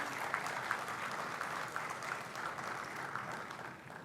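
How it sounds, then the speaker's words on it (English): Steady applause from an audience at an awards ceremony, a dense patter of clapping that holds evenly throughout with a few louder claps standing out. "A huge round of applause"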